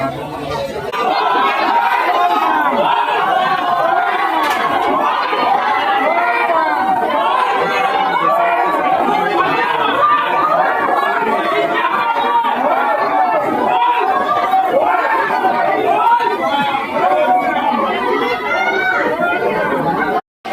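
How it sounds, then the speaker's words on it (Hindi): A dense, steady roar of chatter rises from a large crowd of Shiva pilgrims waiting in a queue at a Bol Bam yatra, many overlapping voices close and loud without pause. "मतलब इतना सारा भीड़ है मत पूछो यार"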